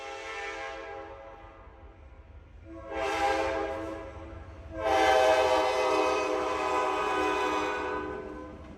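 Freight train L065 of Boston Sand and Gravel rolls past on the approach to Boston, its horn sounding in three long, loud blasts with a gap after the first, over a steady low rumble of the train.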